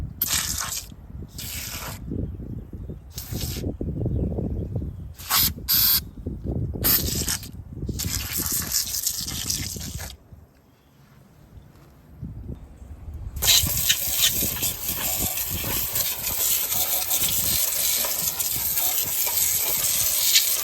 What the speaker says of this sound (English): just spray some on there and let it sit for a couple minutes